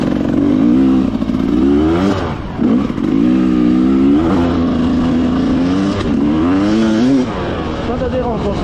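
An enduro motorcycle's engine roars close up, the throttle blipped in rising and falling revs on a rocky uphill trail, loud and continuous throughout.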